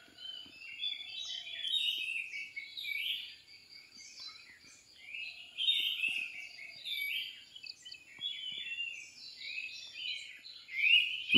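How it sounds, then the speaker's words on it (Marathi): Several kinds of forest birds singing around Nanos, Sawantwadi, with overlapping chirps and warbling phrases coming in irregular bursts, moderately near, over an otherwise quiet background. "वेगवेगळ्या प्रकारच्या पक्ष्यांचा एक ना आवाज, असं मधुर आवाज असते"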